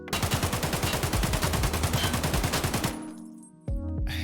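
Budget AK-74 in Escape From Tarkov firing a sustained full-auto burst of rapid, evenly spaced loud shots for about three seconds, then a brief tail and a couple of single reports.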